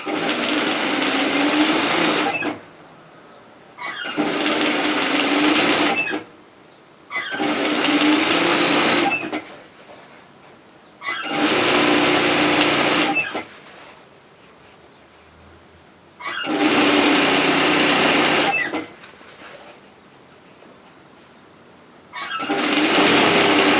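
A sewing machine stitches the 1 cm side seam of a lined tote bag, running in six steady, loud bursts of several seconds each, separated by short quiet pauses.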